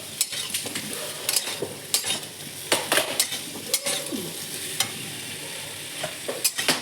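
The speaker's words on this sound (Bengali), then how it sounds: "এখন সুন্দর করে ভাজতে হবে নাহলে জিরে গুঁড়োর গন্ধটা থেকে যাবে" Cumin powder frying in a pan for a Bengali pumpkin dish, a constant low sizzle under repeated sharp scrapes and taps of a metal spoon stirring against the pan.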